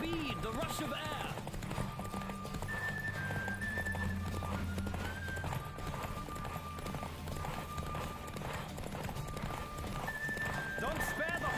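A horse gallops steadily in The Witcher 3 with a clear whinny near the start, hoofbeats driving beneath music, and a person chatting throughout.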